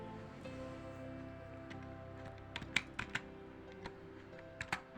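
Text is typed on a computer keyboard in a faint scatter of soft, irregular key taps over a low steady hum, with the clicks growing more frequent toward the end.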